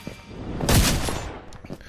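A Minecraft firework rocket fired to boost elytra flight gives one loud whooshing burst in the middle, with a few fainter pops and clicks around it in a quiet game scene.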